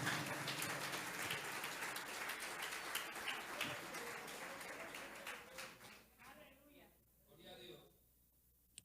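A church congregation applauding during a Sunday morning service, dense loud clapping that fills the room and then thins into scattered claps and fades out, with voices mixed in.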